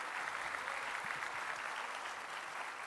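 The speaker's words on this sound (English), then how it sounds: "Big round of applause for the RGB Tuba Euphonium Quartet" An audience gives steady, even applause to a tuba and euphonium quartet at a concert, a continuous wash of clapping at moderate distance with no break.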